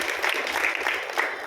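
Listeners at a Marathi lecture give a brief burst of applause, a soft, even wash of clapping with faint crowd voices underneath.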